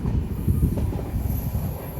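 A passenger train running past the Madurai–Punalur train as they cross, a low steady rumble of wheels on track with faint rhythmic clacking, close and continuous for two seconds.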